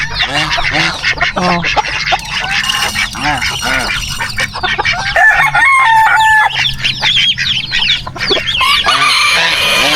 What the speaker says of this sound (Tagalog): Yung manok.